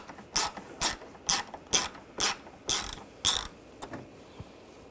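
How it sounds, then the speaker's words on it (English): A ratchet with a T30 socket backs screws out of a Volkswagen Tiguan near the grille, eight rapid clicking bursts in a steady rhythm, close and distinct, then two faint clicks. "you're going to use a T30 socket, and on each side there is a screw"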